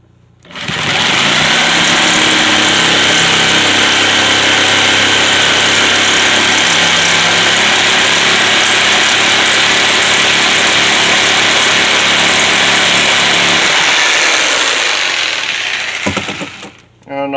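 A power saw rips through hard maple on a low-budget guitar build, a loud steady whine with a droning motor hum that runs for about twelve seconds, then spins down and stops.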